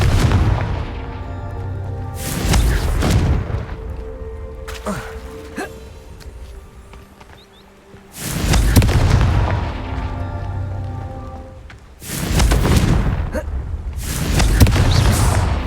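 A Confringo spell blasting in Hogwarts Legacy on PS5: several loud, booming explosive bursts in sequence, each decaying with rumble and debris, with some quieter stretches of game ambience between them.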